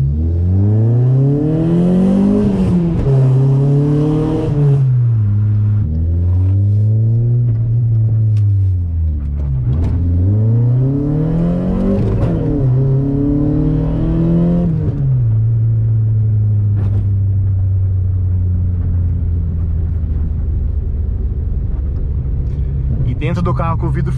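A car with an aftermarket exhaust is revved repeatedly, engine tone rising and falling in loud sweeps broken by sharp crackling pops, before settling into a steady low idle rumble near the microphone.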